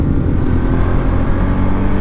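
A Honda CBR150R motorcycle engine drones and revs steadily up close, a dense, continuous mechanical roar with no speech.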